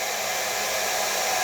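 A cheap handheld blow dryer runs continuously while drying hair, a loud, steady, airy roar with no break and no talking over it.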